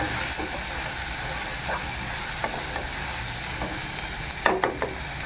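Turkey berries sizzle and hiss steadily in a hot pan, with a few soft clicks and scrapes of stirring.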